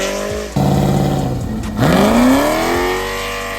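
A Chevrolet Camaro engine revs hard as it leaves a car meet, a loud, close run of rising and falling throttle with a sweeping surge near the middle before settling into a steady rumble.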